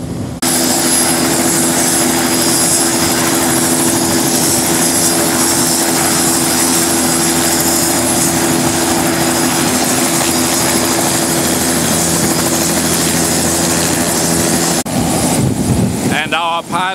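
A helicopter flies from a base near Galveston, Texas, out toward an offshore ship-to-ship cargo transfer, with loud continuous rotor and engine drone from inside the cabin and a brief shift in the sound near the end.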